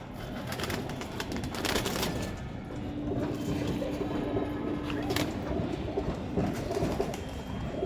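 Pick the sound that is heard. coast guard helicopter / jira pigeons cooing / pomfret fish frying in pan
jira pigeons cooing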